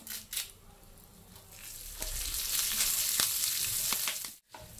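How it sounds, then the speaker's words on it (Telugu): Steady hiss and crackle of a spice tempering with curry leaves sizzling in hot oil, fairly close, with a few sharp clicks and clatters of utensils; no talking. "తాలింపు అయితే ఫ్రై అయిపోయిందండి."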